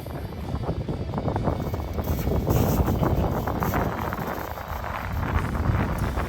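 Steady gusting wind buffets the microphone in a snowy forest in Ukraine, a continuous close rumble and rush that swells slightly toward the middle and stays alone with no voices.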